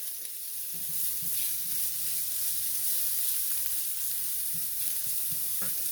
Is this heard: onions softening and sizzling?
yes